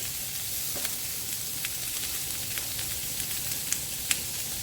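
Rosemary and garlic marinated lamb chops sizzle on a hot gas griddle pan, a steady close frying hiss with a few sharp pops and crackles scattered through it and no talking.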